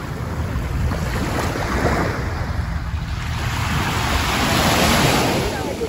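Ocean surf breaking on a Miami beach early in the morning, a loud continuous wash of waves with gusting wind buffeting the microphone, no voices.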